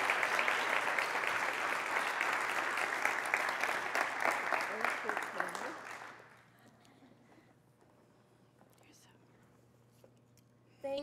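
A congregation applauds warmly at a church service to welcome a poetry reader, with a steady wash of clapping that lasts several seconds and then fades to near silence.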